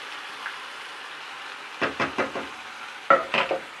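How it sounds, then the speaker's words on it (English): Baked beans fry in a pan under a faint, steady sizzle, broken by a few close scraping stirs in quick succession, then a sharp clank and two more stirs. "Nice satisfying sound of frying beans."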